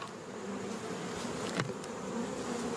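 Steady, close buzzing of many honey bees at a hive, a continuous droning hum with a brief louder pass near the middle.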